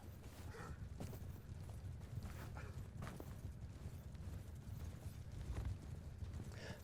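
Hooves of a horse in the Mount & Blade II: Bannerlord video game clip-clop softly as the horse walks away, a faint, steady plodding rhythm with no speech.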